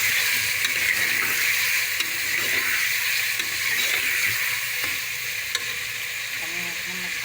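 Cut tomatoes hiss and sizzle in hot oil in a pan, a continuous close frying crackle with occasional stirring clinks, no voices over it.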